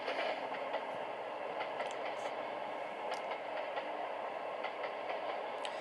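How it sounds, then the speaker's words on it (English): An electric commuter train in the rail game Trainz Simulator 2 runs at steady speed, a constant rolling hum with faint periodic clicks of wheels over rail joints, fairly quiet and without voices. "This train is holding 32 miles per hour pretty well, but soon we'll be able to go faster."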